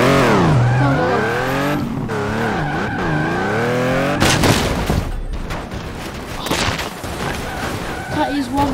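A car crash and explosion in the video game Turbo Dismount, set on a raceway with an oil slick: screeching tires and revving engine give way to a loud burst of crashing booms and debris noise, with a voice talking over it.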